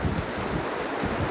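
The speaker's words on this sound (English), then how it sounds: "this branch just came down with that gust right there" Wind gusting through snow-laden trees beside a lake during a blizzard, a steady loud roar with rustling surges and no voices; a branch brought down by the gust is not distinctly audible.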